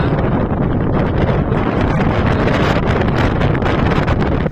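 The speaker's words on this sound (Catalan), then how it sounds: "Mireu el vent que fa" Strong wind blowing hard across an outdoor spot, a loud continuous roaring buffet of gusts battering the microphone throughout.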